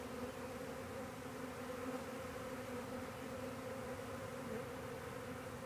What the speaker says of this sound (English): That is a nice swarm.